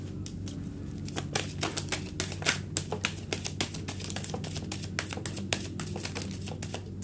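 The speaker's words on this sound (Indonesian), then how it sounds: "Kita akan turunkan kartunya dulu" Tarot cards being laid down during a reading, a run of crisp, light slaps and flicks in quick irregular succession, close and fairly quiet over a low steady hum.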